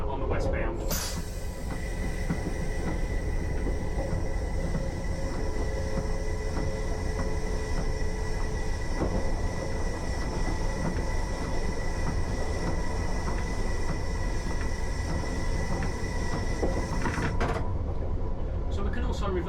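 Steady London Underground Piccadilly Line train rumble and rolling wheel noise in the rain throughout, with a faint squeal near the end.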